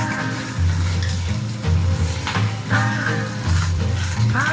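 Cabbage stir-frying in hot oil, a loud close sizzle that keeps crackling while the spatula stirs and tosses it in regular scraping bursts.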